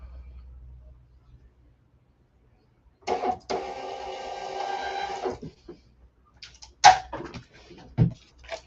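An inkjet-style home printer runs through a print pass, a steady mechanical whir lasting about two seconds in a quiet room, followed by a few short clicks and thumps.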